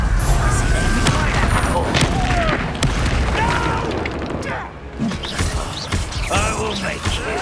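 A Confringo blasting spell erupts in Hogwarts Legacy combat: booming explosions and crackling magical bursts in a dense, busy battle mix, with voices calling out over it.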